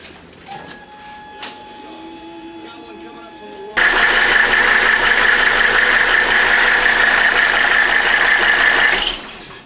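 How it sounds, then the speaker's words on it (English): A Mercedes 300D W123 diesel engine turns over and restarts after quiet moments, then settles into a loud, steady idle that holds for several seconds before cutting off. "So now we're going to restart the engine"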